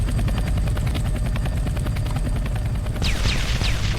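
A video game helicopter's rotor blades chop in a fast, steady rhythm, loud and close, with a whining sweep joining near the end.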